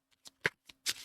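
A deck of oracle cards being handled and shuffled, giving five short papery riffles and slaps at an uneven pace, close and fairly quiet, with a faint hum underneath and no talk.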